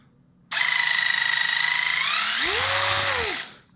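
DeWalt Xtreme 12V sealed head cordless ratchet (DCF500) running in a short burst: a high, buzzing motor whine that starts abruptly, shifts pitch as load changes near the end, then spins down.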